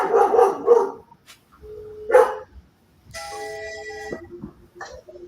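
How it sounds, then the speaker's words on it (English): Dogs bark several times, a few sharp barks, a pause, then another bark, followed by a higher whining yip, fairly close and loud with no voices over them. "Those dogs are barking."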